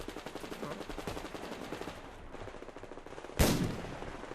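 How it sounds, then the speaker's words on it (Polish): A single loud, sharp gunshot from the Survarium video game cracks out near the end, following a stretch of rapid mechanical rattling and background game noise. "Nawet po samym dźwięku wystrzału można... E, można sugerować siłę, jaką ta broń posiada."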